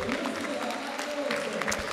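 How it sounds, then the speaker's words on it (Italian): Audience applause fills the Palasport Benedetti at the Memorial Vecchiatto 2019 boxing event between rounds, a dense steady patter of clapping with crowd murmur throughout. "Gli applausi del pubblico del Palasport Benedetti"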